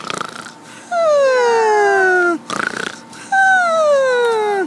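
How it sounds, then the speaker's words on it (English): Two long, whistling snores, each a drawn-out tone that slides downward in pitch, separated by a short noisy breath. "There goes the girl snoring."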